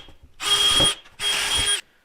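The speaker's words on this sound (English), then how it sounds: "Let's go drill those out quick" A power drill bores holes in a baseboard in two close, loud bursts of whining motor and grinding bit, each lasting under a second, with a brief pause between them.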